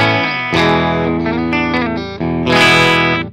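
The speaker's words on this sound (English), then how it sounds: "you can hear the Fender Deluxe Reverb on its own without the pedal" Clean electric guitar played through a Fender Deluxe Reverb amp without any pedal rings out in sustained chords and a few single notes, loud and up close with no talking.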